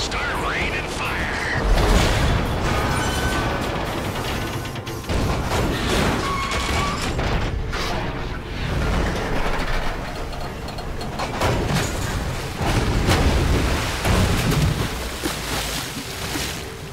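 Explosive crashes and rumbling destruction as a train is blown up in the video game GTA 5, loud and dense throughout with repeated heavy impacts, with voices talking over it.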